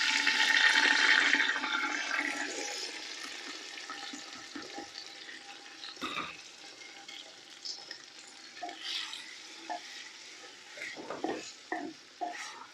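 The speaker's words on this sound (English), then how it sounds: "So here I have the chopped tomatoes, chopped onions, and I want to add them straight in." Chopped tomatoes and onions tipped into hot oil in a clay pot for Pakistani mutton katwi, a loud burst of sizzling at first that settles into a softer frying hiss with scattered stirring clinks and pops.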